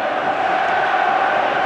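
Stadium crowd in FIFA 13 during an online Celtic versus Nuremberg friendly, a dense, steady roar of cheering fans filling the whole short moment at even loudness.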